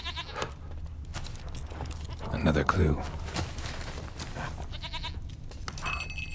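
Goats bleat in The Witcher 3: Wild Hunt over an outdoor game soundscape with footsteps, a louder burst near the middle, while someone talks over it.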